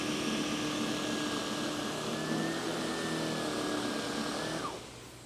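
A SEBO ET-1/ET-2 powerhead vacuum agitating carpet, a loud steady motor whine with brush-roll hum that runs continuously, then winds down sharply near the end.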